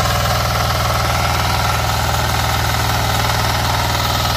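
A diesel 4x4 BS6 power tiller weeder with a three-foot, 24-blade rotary runs loud and close, its engine a steady, throbbing drone with a rhythmic knock and no pauses or voices.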